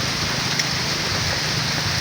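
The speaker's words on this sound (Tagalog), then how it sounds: "ito yung pinakamalakas na ulan eh" Heavy rain pours steadily in a dense, continuous hiss, close and loud with no pauses or voices.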